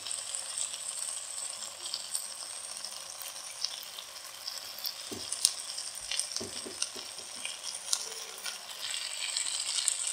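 Boiled spaghetti with chicken and vegetables tossed in a hot pan, a steady fairly quiet sizzle with occasional soft scrapes and clinks of stirring, no voices.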